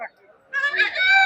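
Chickens at a busy poultry market in Kundarapalli, South India, with a loud, close rooster-like call rising after a brief clucking start.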